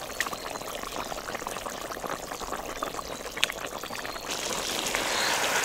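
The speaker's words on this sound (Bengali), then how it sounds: "এবার আমি ওই ঝোলের মধ্যে আমি দিয়ে দেবো ভেজে রাখা বোয়াল মাছগুলো" Fried boal fish going into a pot of boiling curry, giving a steady close bubbling and sizzling wash that swells slightly toward the end, with no talk.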